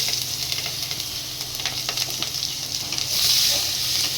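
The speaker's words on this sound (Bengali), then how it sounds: "এটাকে আমি এবার ভালো করে ভেজে নেবো" Chopped onion and green chili fry with whole cumin in a pan for a rohu fish kalia, a steady close sizzle with light stirring clicks, growing a little louder near the end, no one speaking.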